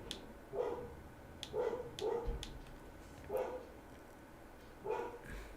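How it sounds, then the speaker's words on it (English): Two dogs barking at each other: five short, sharp barks in uneven succession, moderately close and fairly loud over a quiet background. "Two dogs met and they ain't happy."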